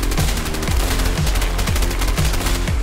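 Rapid automatic gunfire in the video game A Way Out, a loud, dense, continuous stream of close shots with a heavy rhythmic thump underneath.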